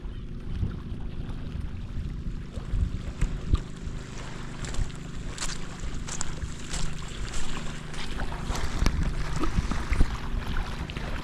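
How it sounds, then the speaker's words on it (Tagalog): An island boat's motor drones steadily throughout, a low continuous hum mixed with wind buffeting and water noise. "Yan yung bangka."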